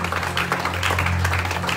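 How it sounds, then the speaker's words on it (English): A worship crowd at a deliverance festival service claps together in a dense, sustained burst, heard against a held musical tone and a low hum. "Give the Lord a mighty clap."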